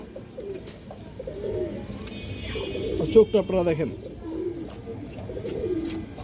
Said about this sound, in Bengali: কালো বাঘা নর কবুতর আছে টকটকা লাল গিয়ারের